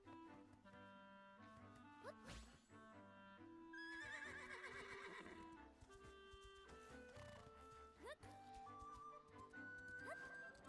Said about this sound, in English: That horse must really love carrots.